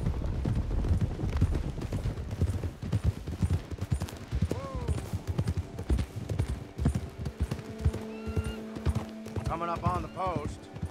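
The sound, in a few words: horse hooves clip-clopping in the video game Red Dead Online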